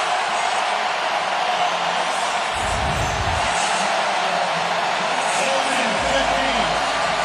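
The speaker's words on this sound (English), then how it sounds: "Crowd trying to get back into it" Stadium crowd at the 2018 Clemson vs Syracuse college football game: a steady, dense roar of many voices filling the background, with a commentator talking over it.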